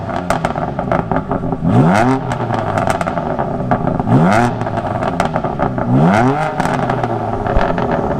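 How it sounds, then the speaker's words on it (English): A stock BMW F80 M3 revs three times, each rising engine sweep followed by crackling exhaust burbles and pops, loud and close over a steady idle. "I'll give you guys a couple sound clips now of it revving"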